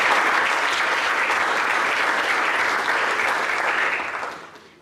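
Audience applause for a student at a high school fine arts signing day: a steady, full round of clapping from a crowd that holds evenly for several seconds before fading out at the end.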